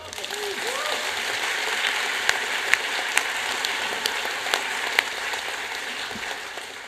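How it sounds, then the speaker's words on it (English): A large audience at a roundtable forum in China applauds in a steady, dense wash of clapping that holds evenly throughout, with a few sharper individual claps standing out. "So a round of applause for the largest middle-class population in China."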